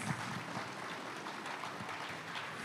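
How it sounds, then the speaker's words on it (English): A conference audience applauding, a dense, steady patter of many hands clapping at moderate distance throughout, with no speech over it. "I think we should do that in a round of applause"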